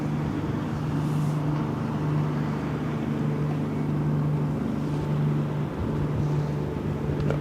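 The ship Patriot speeds past at 30 knots on the Westerschelde in the Netherlands, a steady loud low engine drone with a strong hum, broadband water and wind rush continuing throughout.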